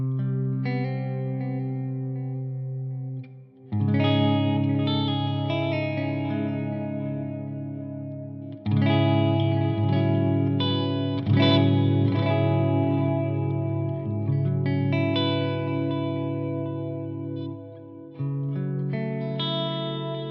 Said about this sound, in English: This button has a long, thick plate reverb, and then a quarter dotted delay